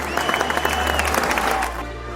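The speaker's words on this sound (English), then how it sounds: "The crowds are going crazy!" A crowd at the Miss Universal 2021 beauty pageant breaks into loud, dense applause and cheering that carries for about two seconds, then cuts off quickly.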